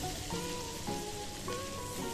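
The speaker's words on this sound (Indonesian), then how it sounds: "Nah, ini semuanya kita goreng dulu." Shallots, chili and tomatoes frying together in hot oil, a steady close crackle and hiss with scattered pops running throughout, no talk over it.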